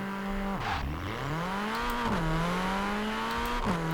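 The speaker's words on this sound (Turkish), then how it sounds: "Çok güzel çatırdatıyor egzozdan ya." Modified Mini Cooper JCW Countryman ALL4 in Forza Horizon 4, its engine pitch climbing and dropping through several gear shifts, with sharp exhaust crackles and pops bursting out at each change.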